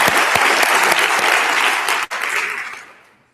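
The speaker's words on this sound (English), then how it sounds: "Would you please give them a round of applause and thank them for what they do?" An audience in a college auditorium in Caldwell, Idaho, claps at a civic address, a loud, dense burst of applause that holds steady and then tapers quickly to silence.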